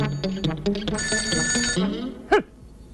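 A telephone bell rings loudly in a comedy film scene, in quick trilling bursts, then cuts off, followed by a short sharp sound.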